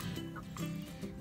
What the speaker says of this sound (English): This is our mother hen, and she is a Cochin